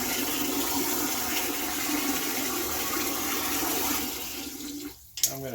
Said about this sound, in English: I'm going to turn this to a little bit more gentle fill since I'm getting halfway up.